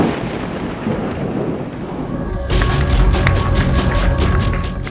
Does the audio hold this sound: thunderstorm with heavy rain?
yes